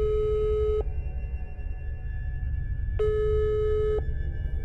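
A telephone ringback tone sounds on a call, two long steady tones a couple of seconds apart over a low background hum, with no voices.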